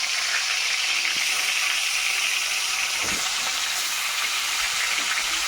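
Pieces of boal fish fry in hot oil with a loud, steady sizzle and hiss, close up and uninterrupted, with one faint soft thump midway.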